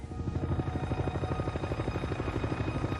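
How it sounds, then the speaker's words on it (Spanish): A navy helicopter arrives at a plane crash site, its rotor beating in a rapid, steady, heavy chop that stays loud and close throughout. "Fernández llega rápidamente al lugar del accidente en un helicóptero de la Marina"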